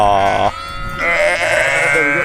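Sheep bleat close by in a field, one long wavering call followed by another after a short gap.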